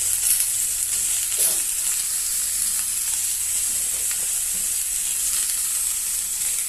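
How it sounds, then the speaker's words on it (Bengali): Kabuli chickpeas and potatoes frying in a pan with green chillies and salt, stirred with a steady loud sizzle and hiss that runs unbroken throughout, with faint scraping of the spoon underneath. "এবার এটাকে ভালো করে নাড়িয়ে নেব।"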